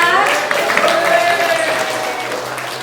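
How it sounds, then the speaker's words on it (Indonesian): A group of school people clap their hands together in a room, a fairly loud patter that tapers off over a few seconds while voices are faintly present. "tepuk tangan untuk kita semua"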